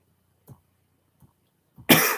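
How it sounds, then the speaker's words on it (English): A small cough from a man chatting over a car baseball game, a couple of faint throat sounds followed by one short, close, sharp cough at the end. "Small cough there, sorry about that."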